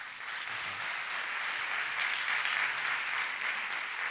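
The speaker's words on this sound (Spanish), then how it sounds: "Un aplauso para él" Audience at a Naukas 2013 popular-science talk applauding as the next speaker is welcomed onstage; steady, dense clapping from a large crowd, even and sustained throughout without pauses.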